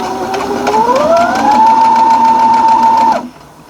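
A sewing machine runs steadily for about three seconds, stitching quilt pieces along a diagonal for a Halloween-themed quilt, its motor hum rising in pitch, then holding an even whir before stopping abruptly.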